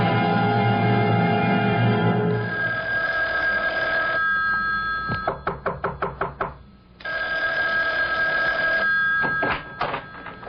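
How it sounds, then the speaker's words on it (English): An old-fashioned telephone bell rings in a radio drama, loud and close, in long sustained bursts broken by rapid clattering strikes, with no voices over it. "Isn't that your phone I hear ringing?"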